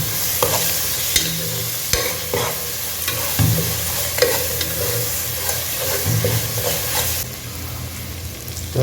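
Cinnamon, cloves, cardamom and mutton fat frying in a pan for a mutton dum biryani, a continuous close sizzle and crackle broken by regular scraping stirs, with no one speaking.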